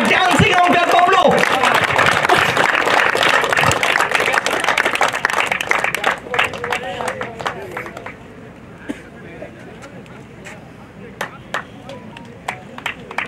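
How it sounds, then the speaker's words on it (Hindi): At a cricket tournament in Cuttack, a crowd claps loudly and densely while a voice talks over the applause. The clapping thins out halfway through into scattered, sharper claps under continuing speech. "गोटे जोरदार ताली सहित आम वेलकम करबा डांसिंग अंपायर बबलू।"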